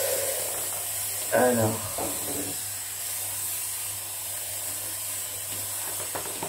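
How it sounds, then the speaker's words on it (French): A handheld garment steamer sends a steady, loud hiss of steam onto fabric throughout, with a woman's brief word heard over it near the start. "clairement vous avez juste à l'allumer et ça fait la vapeur"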